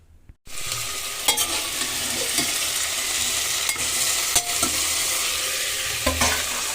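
Oil sizzles steadily in a pan, a continuous crackling hiss with a few sharper pops and clicks, close up and without talk.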